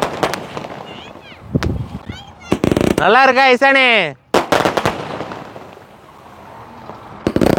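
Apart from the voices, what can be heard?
Sivakasi skyshot fireworks bursting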